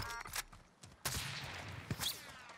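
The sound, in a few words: gunfire from a video game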